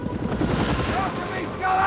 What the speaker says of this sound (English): We were chased by helicopters at an altitude that was a little too low for my liking